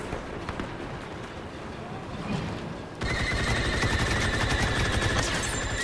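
Rapid turret gunfire in Star Wars Battlefront bursts out loud and continuous in the second half, following a quieter stretch of battle noise with some distant shots.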